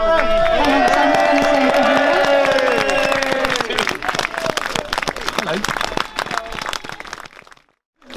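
Outside a magistrates court at a protest rally in Sheffield, a crowd cheers and claps loudly, voices rising in a burst of whoops before settling into steady, dense applause that thins out and stops near the end.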